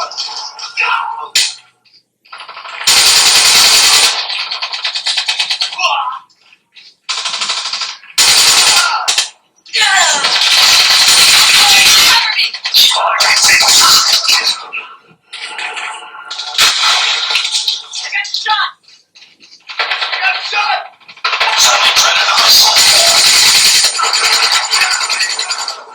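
Rapid automatic gunfire from a PUBG or COD mobile game session on a Nokia 5.3 smartphone, loud sustained bursts broken by brief pauses, with occasional short gaps and no audible voice over the shots.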